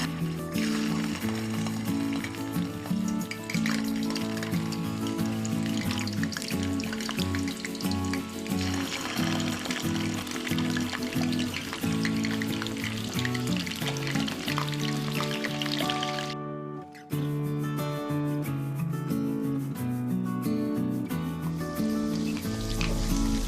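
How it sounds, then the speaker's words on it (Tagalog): Fish sizzles and crackles steadily in hot cooking oil for escabeche, a dense continuous frying hiss that runs under prominent background music for the whole stretch, with a brief dip near the end. "dahil mainit na ang ating mantika, pwede ko na pong isunod itong isda. Iprito ko na po"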